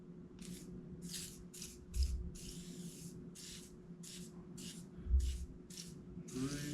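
Rust protection spray is applied to a cast iron table saw top in a quick series of about a dozen short, close aerosol bursts, evenly spaced with small knocks between.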